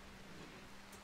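Steady rain falling in the video game RimWorld, a soft continuous hiss of even drizzle filling the short stretch with no voices.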